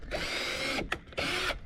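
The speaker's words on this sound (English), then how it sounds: "you're going to start by drilling your first hole" A power drill bores a hole into a fishing kayak's hull, whining steadily for almost a second, cutting out briefly with a short burst, then revving again in a second close, sustained run.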